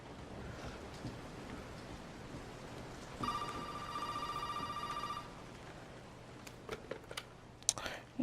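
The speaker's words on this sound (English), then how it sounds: "Now we're going to have to answer that phone." A phone rings in Resident Evil VII, one steady electronic ring lasting about two seconds over a low rumbling game ambience, followed by a few scattered clicks.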